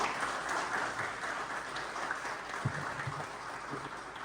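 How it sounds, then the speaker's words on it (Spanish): Sustained audience applause at a workers' union gathering in Panama, steady dense clapping from a hall of people for a doctor taking the stage, holding even level with a few sharper claps standing out. "Un fuerte aplauso para el doctor."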